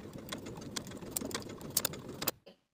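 A sewing machine stitches pinned pleats in place along a raw edge of shirt fabric, a fast rhythmic whirring with small clicks, close and moderately quiet, ending abruptly after a couple of seconds with no talking.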